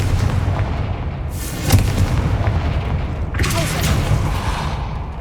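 Two loud booming blasts from the Confringo spell in Hogwarts Legacy, each a sharp explosive burst with a crackling tail, the first about a third of the way in and the second later, over low background rumble.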